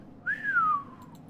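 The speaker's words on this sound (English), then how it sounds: "Ethan whistles." A character in Citizen Sleeper whistles one clear note that rises and then slowly glides down, a short, close and solitary whistle over faint background hum.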